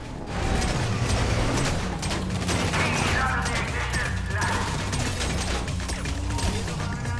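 Rapid gunfire crackles in a chaotic GTA Online freemode match, dense bursts of shots layered over engine and mechanical game noise, while players shout and talk over the action.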